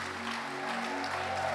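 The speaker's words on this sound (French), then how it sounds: "On acclame très bien le Seigneur avec des cris de joie" A church congregation claps and cheers to acclaim the Lord, a steady dense wash of applause from a crowd that holds at an even level throughout the short moment.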